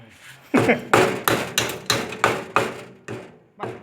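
Hammer blows on a home Central Air CCS-PF18 air conditioner unit under repair, about eight loud, close strikes at a steady rhythm, each a sharp metallic thud, with no talk.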